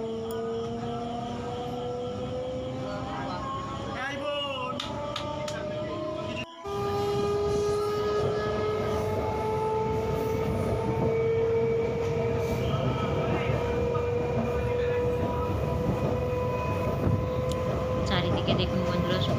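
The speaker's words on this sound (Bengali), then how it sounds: "আমাদের ট্রেন ছেড়ে দিয়েছে" A Majerhat–Namkhana local train runs along the tracks, heard from inside as a steady loud rumble with rising motor whine and rail clatter, and a brief sharp jolt early on.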